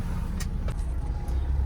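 A Maruti Swift engine idles steadily and low after starting, a continuous near rumble with a few brief faint clicks over it.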